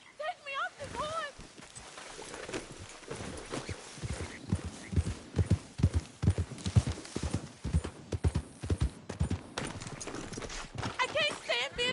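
Close, steady clip-clop of a horse's hooves in the Red Dead Redemption 2 video game, running in a regular rhythm under a voice, with a brief whinny in the background.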